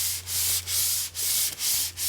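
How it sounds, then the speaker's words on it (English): Sandpaper folded around a wooden atlatl dart rubs lightly and steadily in quick back-and-forth strokes, a soft rhythmic scratching with brief pauses between passes, close up. "fold it right around the dart like this and sand it very lightly"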